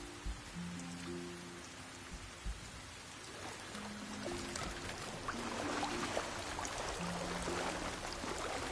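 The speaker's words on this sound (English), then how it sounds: "Gotta love how the rain doesn't kill you here." Rain falls steadily in the video game Sky: Children of the Light, a soft continuous patter and hiss that grows a little denser and louder toward the end, with faint tonal game sounds underneath.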